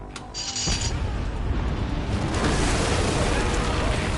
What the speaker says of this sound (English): Oh, he just detonated all of them.